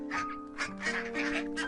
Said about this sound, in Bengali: হাঁসের বাচ্চাগুলো হাঁটতে হাঁটতে একসময় সোনালিদের বাড়ির পাশের পুকুরে চলে আসে